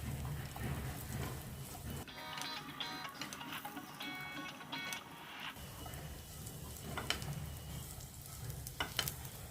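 Pieces of pitted soft dates and chopped figs fry in ghee in a pan, a quiet steady sizzle with intermittent stirring scrapes and a brief brighter crackling burst midway.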